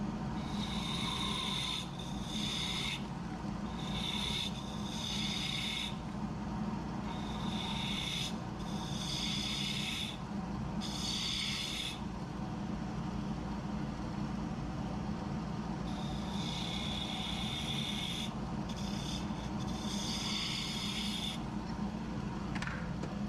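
A spindle gouge cuts a wooden mushroom on a lathe at a woodturning club demonstration, giving a steady close rasping scrape in repeated strokes over a constant low motor hum, with no talk.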